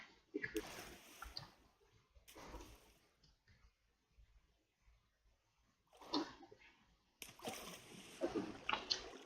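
Water splashing and sloshing in a video game as a character climbs up waterfalls, coming in several loud bursts separated by quieter gaps.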